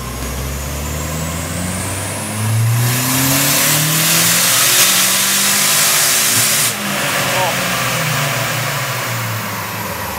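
A turbocharged Toyota RAV4 engine revs at full throttle on a dyno, rising steadily in pitch through the gears with a loud roar and turbo whine, then cutting off abruptly before idling down.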